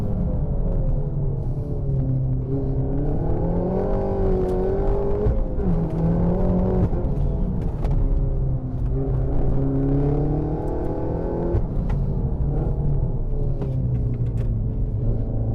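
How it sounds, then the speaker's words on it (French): A Peugeot 308 RC car revs and accelerates on a track, its engine note rising and falling in steady sweeps as the inner wheel spins, a loud close mechanical drone with no voices. "quand je réaccélère un petit peu trop fort, trop tôt, on a bien la roue intérieure qui patine"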